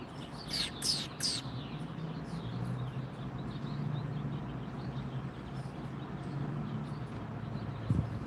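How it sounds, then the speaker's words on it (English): Birds sing outdoors, a few bright chirps and short tweets near the start, then faint scattered calls over a steady low background hum. "Listen to the birds singing."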